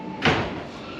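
A locked apartment door in Sarajevo's old town is tried, giving one short rattling thud as it holds fast against a steady outdoor hum.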